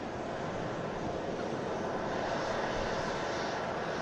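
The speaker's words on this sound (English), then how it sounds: "that'll signal that the aircraft is now ready for taxi over to 23 left for departures" Aircraft engines at Manchester Airport as a plane taxis toward the runway: a steady, broad roar with a windy rush, constant in level throughout and heard alone.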